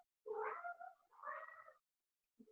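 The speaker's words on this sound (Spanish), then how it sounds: "mi gata que también quiere ya su lechita ya desde temprano" A female cat asking for her milk early in the morning gives two drawn-out meows in a row, faint and close, followed by the start of a third. No one speaks.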